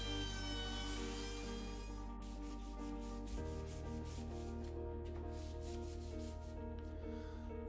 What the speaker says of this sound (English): When the glue has dried, sand the seat smooth and round the edges